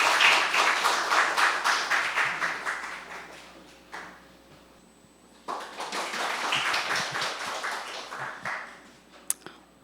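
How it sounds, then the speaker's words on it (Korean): An audience at a policy forum applauds to welcome a patient speaker to the stage, with dense clapping that swells and fades, briefly thins to scattered claps, then rises again before tapering off. "여러분 박수로 맞아주시면 감사하겠습니다"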